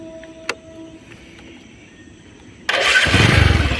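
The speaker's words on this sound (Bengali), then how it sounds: "গাড়িটা আমরা স্টার্ট দেব, দেখি স্টার্ট দিয়ে।" A second-hand motorcycle is started after a near-silent pause, its engine bursting into a loud, close, rough roar that holds steady for the last second or so.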